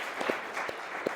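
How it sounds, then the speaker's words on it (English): An audience at a real estate agent panel applauds a team member, a steady wash of clapping from many hands with a few sharper claps standing out, filling the short moment without voices. "everyone, clap for Liv."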